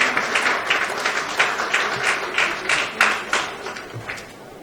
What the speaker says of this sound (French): je vous invite d'ailleurs à applaudir pour ces femmes parce qu'elles sont ici dans la salle